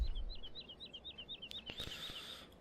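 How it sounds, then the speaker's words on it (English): A bird in Farming Simulator 17 chirps in a quick, even series of high, repeated notes, steady and fairly close, with a few soft clicks and a brief rustle near the end. "I like the birds singing, chirp or chirping."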